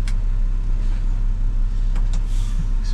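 A fully customised truck is driven slowly, giving a heavy, steady low engine rumble throughout, close and loud, with a couple of brief clicks and a hiss near the end.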